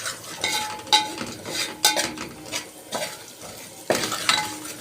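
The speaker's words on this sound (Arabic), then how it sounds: "انا حطيت شوية زيت، يجي 3-4 معالق زيت كده، وحطيت عود قرنفل، وحطيت قرفة وكزبرة، وحطيت كركم" Clove, cinnamon, coriander and turmeric fry in a few spoons of oil in a pan, a low sizzle under repeated scraping stirs and clinks of a spoon against the metal.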